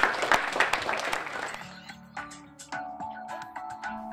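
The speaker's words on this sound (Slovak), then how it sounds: "Takže zatleskáme si." Audience applause at a 20th-anniversary celebration, a burst of clapping that fades after a couple of seconds into scattered claps and some music-like tones.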